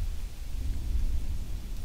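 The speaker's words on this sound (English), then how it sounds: "Hear the thunder?" A deep, continuous rumble of thunder rolling underneath steady rain noise at a hammock and tarp campsite, with no speech.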